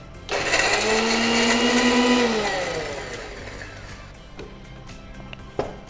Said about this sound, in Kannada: ಈಗ ಇದೆಲ್ಲ ಇದು ಒಂದು ಬಾರಿ ಫಸ್ಟ್ ಗ್ರೈಂಡ್ ಮಾಡ್ಕೊಳ್ಳಿ